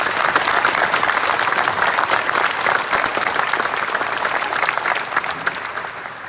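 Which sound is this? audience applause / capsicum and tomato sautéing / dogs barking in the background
audience applause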